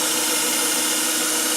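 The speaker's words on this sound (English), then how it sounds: "So we can drill 3 holes." A power drill runs steadily at constant speed while boring holes through a pull bar held in a plastic drill jig, a close, loud continuous whir with no pauses.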